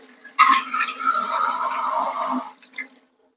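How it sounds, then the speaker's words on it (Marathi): Tap water runs steadily over steamed sabudana (tapioca pearls) in a kitchen, a close, smooth splashing stream lasting about two seconds before stopping, followed by a few faint drips. "हा आपल्याला आता इथे नळाखाली धुवून घ्यायचा आहे स्वच्छ पाण्याने"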